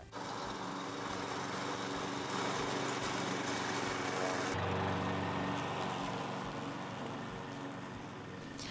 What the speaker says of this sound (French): Vu la hauteur de l'herbe, la tonte est vraiment difficile, mais Green fait aisément face à cette situation